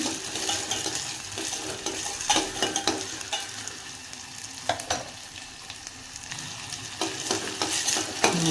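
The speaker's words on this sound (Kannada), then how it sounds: "ಅದು ಸ್ವಲ್ಪ ಚೆನ್ನಾಗಿ ಫ್ರೈ ಆಗಲಿ" Onion and potato fry in a pan with a continuous close sizzle, broken by repeated scrapes and taps of a stirring utensil against the metal.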